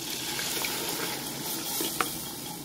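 Yogurt and gram flour mixture poured into a hot frying pan while making kadhi, giving a steady close sizzle and frying hiss with faint stirring scrapes and one sharp clink near the end.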